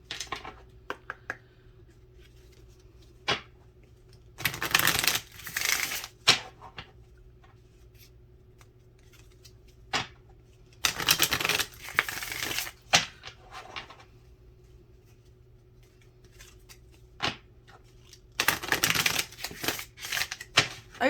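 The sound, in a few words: shuffling Whispers of Healing oracle cards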